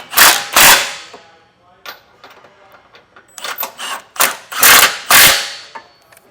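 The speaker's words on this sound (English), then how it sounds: "I'm using an impact gun with a 7/8 socket." Impact gun with a 7/8 socket snugging down bolts on a Class III trailer hitch under a 2022 Honda Passport, several sharp loud rattling bursts in short groups with quieter clicks and handling noise between.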